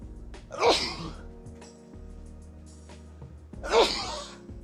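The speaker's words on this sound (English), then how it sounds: "You just sneezed on the king" Two loud, abrupt sneezes about three seconds apart, close by, over a quiet background with faint music.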